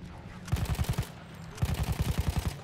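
Automatic gunfire in the video game Battlefield 1 rips out in two rapid bursts of evenly spaced, punchy shots separated by a short pause, loud and close.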